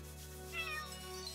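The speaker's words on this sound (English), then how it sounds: "Gotta pet the kitty." A cat meows in the video game We Chain Echoes as it is petted, a single drawn-out mew rising over a steady game music bed and then trailing off, with no talk.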